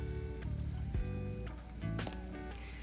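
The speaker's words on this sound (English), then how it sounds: "I'm gonna put them into my fucking sage butter skillet and skillet that bitch up." Gnocchi crackle in a sage butter skillet, a soft, steady sizzle lasting about three seconds under a faint tonal background hum.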